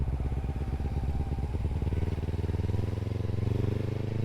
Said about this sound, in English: I just picked up my first bike ever, a Kawasaki Z300